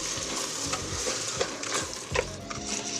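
Washed medium grain rice and diced tomato are stirred in a hot pan, sizzling steadily under repeated scraping strokes of a spoon, close and continuous with no talking.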